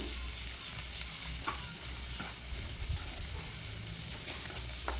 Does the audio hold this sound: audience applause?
no